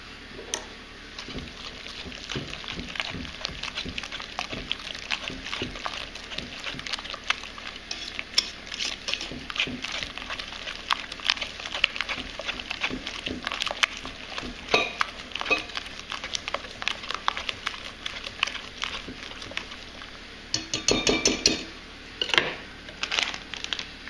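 A spoon scrapes and stirs through thick cake batter with ham and olives in a bowl, a close run of soft clicks and wet scraping that grows busier toward the end.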